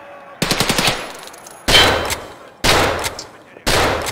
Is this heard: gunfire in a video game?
yes